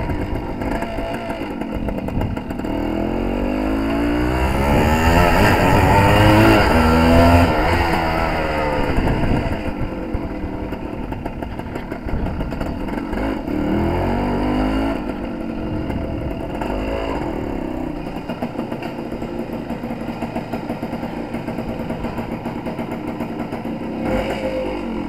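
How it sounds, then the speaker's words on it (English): Suzuki TS185 two-stroke motorcycle on a road test after a jet change, its engine loud and close, rising through a strong rev and then holding a buzzing, slightly burbling drone, with no talking. "Trying to get rid of that little burble there, around about 3-4 grand."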